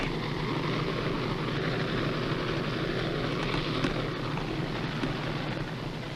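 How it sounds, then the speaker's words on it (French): Engines of the submarine Casabianca running below decks, a dense continuous low drone with steady hum and even loudness throughout, no talk over it. "Toujours ces moteurs."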